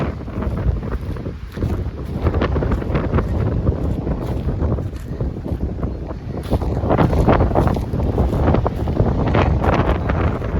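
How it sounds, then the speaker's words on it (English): Strong wind buffets the microphone continuously at a lakeside campground, a loud rumbling roar with gusts rising and falling throughout and no voices. "A little windy."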